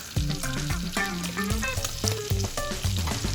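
Crushed garlic and rosemary sprigs sizzle in a pan alongside seared branzino, a steady bright hiss running under a prominent melodic music track.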